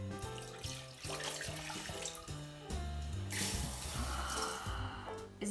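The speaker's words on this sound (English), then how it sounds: "now we're going to put in 1 cup of rice into the pot as well as 2 cups of water." Water pours into a pot holding a cup of rice, a steady rushing splash heard close and fairly loud throughout, with music playing underneath.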